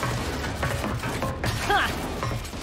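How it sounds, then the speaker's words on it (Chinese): Weapon reloading in the shooter Gears 5, rattling mechanical clanks and a thudding impact amid ongoing combat noise, with a brief high-pitched chirp partway through. "正在装填弹药，掩护我"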